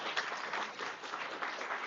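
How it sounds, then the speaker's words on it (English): A small audience claps steadily for a guest during a talk on becoming a UX designer, an even, continuous patter of moderate loudness with no break. "please have a round of applause for her."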